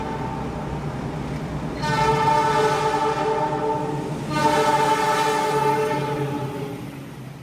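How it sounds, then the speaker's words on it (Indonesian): An extra passenger train on an Indonesian railway passes with its horn blaring in two long, loud blasts close by, over the rumble of the moving cars. "Berarti akan segera melintas kereta api tambahan dari YK ke GMR."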